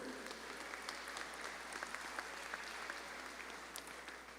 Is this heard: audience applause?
yes